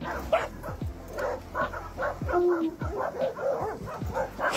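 A dog gives a few short barks and yips scattered across several seconds, moderately near, over busy outdoor background noise beside water.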